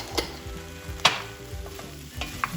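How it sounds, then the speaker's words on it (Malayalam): A spoon stirs turmeric powder into an oily pan. Several sharp scrapes and clinks sound over a low, steady sizzle, close by and with no voices. "ഒന്ന് ഇളക്കി യോജിക്കാം."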